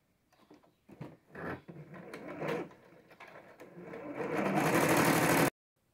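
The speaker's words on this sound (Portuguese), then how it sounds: "nós vamos passar uma costura aqui reta." A sewing machine stitches a straight seam in folded orange fabric: short bursts of whirring stitching, then a longer, louder continuous run that stops abruptly, with handling noises between bursts.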